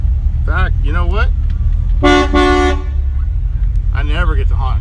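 A loud truck horn blasts once at a cruise night car show, sustained for under a second, between bits of nearby talk over a low engine rumble.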